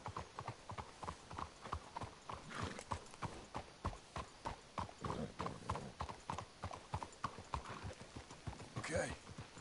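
Horse hooves clip-clop steadily in Red Dead Redemption, a brisk rhythmic trot of sharp, fairly close hoofbeats with a brief whinny near the end, faint game ambience behind.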